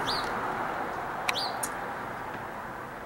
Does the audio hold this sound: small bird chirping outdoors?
yes